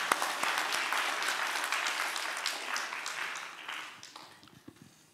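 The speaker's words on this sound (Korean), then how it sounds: "1000명 박수치고" An audience at a church seminar applauds in a steady, moderately distant wash of clapping that gradually fades out over several seconds.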